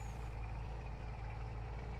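Engine of a multi-purpose farm truck in a farming simulator game, a steady low idling rumble with a constant hum, heard alone without speech.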